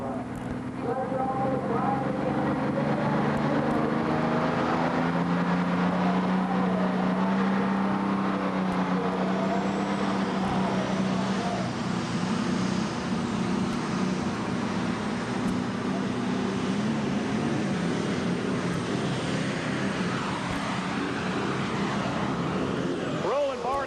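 A heavy tractor pull engine roars steadily and loudly throughout at a 1994 NTPA event in Lexington, Alabama, with a commentator talking over it and some crowd noise.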